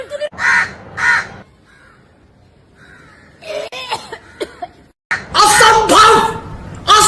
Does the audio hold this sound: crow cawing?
yes